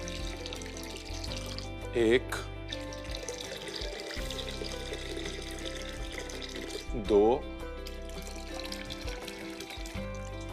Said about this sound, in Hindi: सबसे पहले पतला करते हैं पानी डाल के।